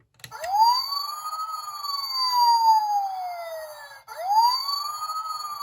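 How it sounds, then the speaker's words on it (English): An electronic police siren from a 2001 Transformers: Robots in Disguise Omega Prime toy's light bar wails, rising and falling in long sweeps, then abruptly restarts; clean, close and loud with no talking. "there's a siren loop that loops 3 times, and the sirens light up"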